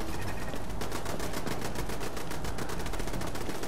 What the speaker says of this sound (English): I hear shooting.